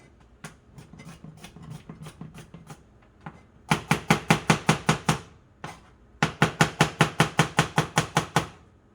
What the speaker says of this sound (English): 3 cloves of big garlic, thinly sliced.